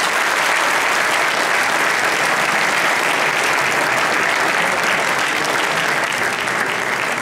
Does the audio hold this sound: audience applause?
yes